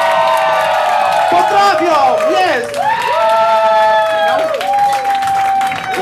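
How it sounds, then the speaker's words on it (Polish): Audience applause and cheering at a stage show, the crowd clapping and whooping loudly throughout while a voice shouts over the noise. "Wielkie brawa!"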